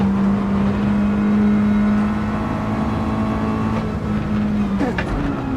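A steady, droning race car engine in a racing video game hums at a constant pitch, moderately loud and continuous, shifting slightly near the end with a brief mechanical click.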